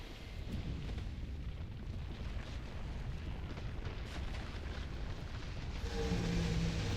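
A fiery boss explosion in the Dark Souls II fight against the Heir: a sustained, heavy roaring rumble with crackling fire that swells louder near the end, with no voices over it.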